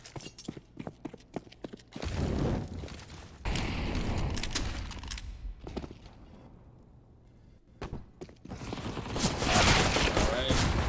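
MP9 submachine gun fire during a competitive CS:GO tournament match, heard as rapid bursts of automatic shots in several clusters with pauses between them, mixed with game effects.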